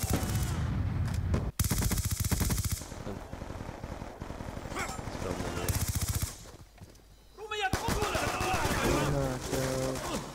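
Loud automatic gunfire from the Black Ops 2 video game comes in dense, rattling bursts broken by short pauses, with scattered single shots and a voice at times.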